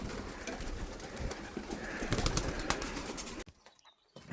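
Pigeons coo in a pigeon loft, soft, rolling calls heard close over a busy rustle of birds, fading to near quiet at the end.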